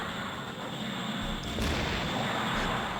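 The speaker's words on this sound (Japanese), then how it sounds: "今投げてるのはハンドグレネードです" Hand grenade explosions in the video game Gundam Blue Destiny, muffled booms and rumbling blasts under a constant noisy game background, one sharper burst midway, no talking.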